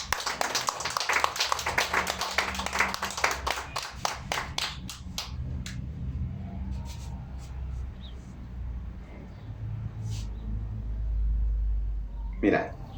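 A church congregation claps together in a dense burst of applause that thins out into scattered claps, followed by someone speaking.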